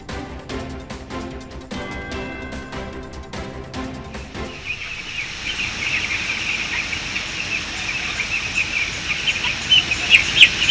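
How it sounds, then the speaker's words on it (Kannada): Young chickens at a poultry farm during hot weather give quick, repeated high peeps in the first few seconds, and then the sound gives way to a steady background hiss and rustle. "ಮುರನಾಳ ಗ್ರಾಮದ ನೂರ್ಜಾನ್ ರೊಳ್ಳಿ ಎಂಬುವವರ ಕೋಳಿ ಫಾರಂನಲ್ಲಿ ಬಿಸಿಯ ತಾಪಕ್ಕೆ ನಿತ್ಯ 100 ಕೋಳಿ ಮರಿಗಳು ಸಾವನ್ನಪ್ತಾ ಇದೆ."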